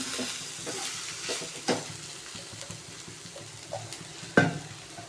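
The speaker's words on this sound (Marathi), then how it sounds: "आता भाजी चांगली परतून घेऊ." Wild greens with grated fresh coconut being stirred and sautéed in a pan, a soft continuous sizzle broken by scraping spoon strokes and a few sharper clanks against the pan.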